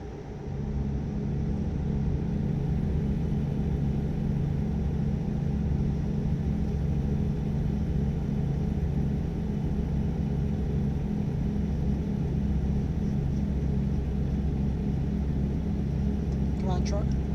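A heavy truck engine in American Truck Simulator drones with a low, steady rumble throughout, driving a California route from San Diego to Bakersfield, with a faint higher whine near the end.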